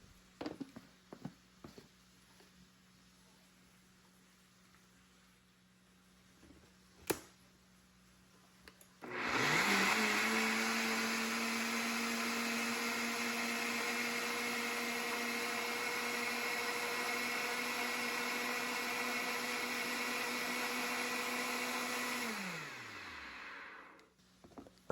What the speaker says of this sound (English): Blend it.